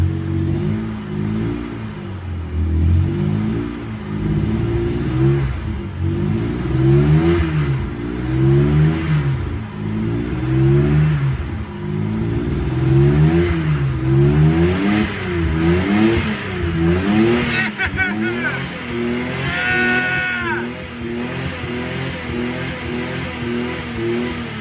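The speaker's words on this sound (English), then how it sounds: "rev it, see if it'll rev." Repeated revs from a 1992 Acura Legend engine, each throttle blip swelling and falling in a loud, close, rhythmic pattern across the stretch, with a brief sharper metallic whine near the end.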